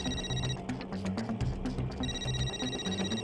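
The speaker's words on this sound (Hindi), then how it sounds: "बीवी का फोन है, उठाना पड़ेगा।" A mobile phone rings with a call from a wife, its repeating ringtone tones sounding steadily throughout the scene while a rickshaw ride is underway.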